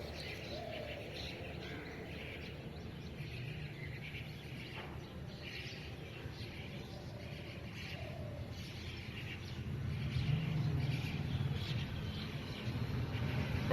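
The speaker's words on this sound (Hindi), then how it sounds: "और एक साथ जब वो चहचहाते हैं तो बहुत प्यारा सा एक साउंड क्रिएट होता है" Many birds chirp together in an early-morning outdoor setting, a faint, steady chorus of overlapping calls and tweets that grows slightly louder toward the end.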